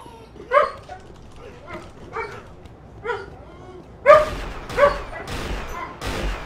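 A dog barks repeatedly and insistently nearby, about eight sharp barks at a roughly even pace that grow louder and closer together toward the end.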